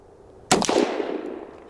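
A single loud, close gunshot from a 7.5-inch Ruger Redhawk .44 Magnum revolver fired outdoors, a sharp blast followed by a long rolling echo that fades over about a second.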